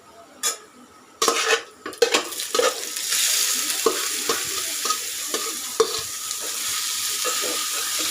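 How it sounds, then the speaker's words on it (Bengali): Grated bottle gourd and small shrimp cook in a pan for a Bangladeshi home meal: utensil scrapes and clinks against the pan at first, then an even, close sizzle with occasional stirring knocks. "এখানে রান্না করছি লাউ দিয়ে চিংড়ি মাছ দিয়ে"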